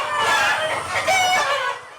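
Chickens cluck and crow in a backyard poultry farm, a dense, loud chorus of many birds overlapping continuously and close by, with no talk.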